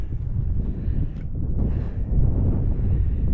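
Wind buffets around a budget tent at a wild camp, a loud, low, rumbling roar of gusts battering the microphone, steady and unbroken throughout.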